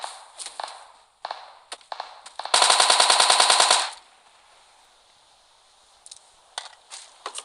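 Automatic weapon fire in PUBG Mobile, a rapid burst of closely spaced shots lasting about a second and a half, loud and dense, surrounded by quieter footsteps and scattered in-game clicks and thuds.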